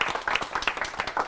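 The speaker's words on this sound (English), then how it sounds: "Shall we give them a quick round of applause?" A small audience gives a brief round of applause for a panel at an online industry talk, with individual claps audible in a short, moderately loud burst.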